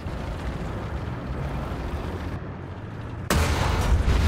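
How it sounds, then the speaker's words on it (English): In a video game, a heavy, rumbling explosion roars continuously, cuts briefly, then slams back in with a louder, sharper blast near the end. "That was a huge explosion."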